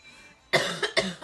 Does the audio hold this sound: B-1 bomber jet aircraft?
no